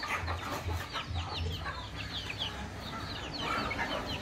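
Desi country chickens cluck and chatter close by in a poultry yard, a busy overlapping mix of short calls with a low steady background hum.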